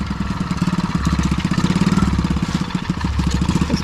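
A quad bike (ATV) engine runs at a farm, a steady close-up putter with rapid regular pulses, rising slightly and holding at a mid idle throughout, with no talking.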